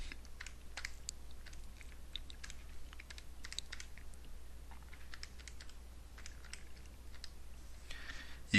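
Rapid, light keypresses on a calculator while a quadratic's discriminant is entered, scattered soft clicks over a steady low hum, no talking.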